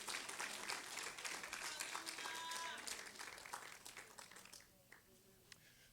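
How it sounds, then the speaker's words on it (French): A church congregation applauds in a dense wash of clapping that gradually thins and fades out, with a few voices calling out over it. "Est-ce qu'on peut applaudir le Seigneur pour ça?"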